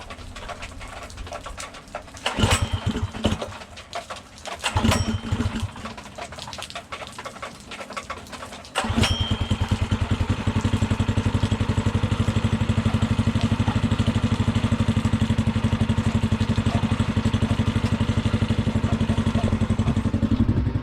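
A small motor with its spark plug wire just reconnected gives a few uneven, sputtering bursts. It then catches and settles into a loud, steady running drone close by.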